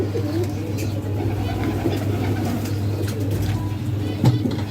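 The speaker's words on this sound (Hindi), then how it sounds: "ये कबूतर ऐसे होते हैं।" Pigeons coo in a low, repeated rhythm close by, held as prized birds with solid bodies, over a steady background hum with faint traffic, no talk.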